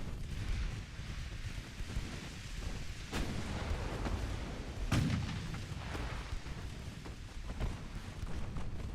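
Battleship guns with 9-inch and 5-inch batteries firing in a naval video game, two heavy booms standing out over a constant low rumble of wind and sea, fairly muffled and distant.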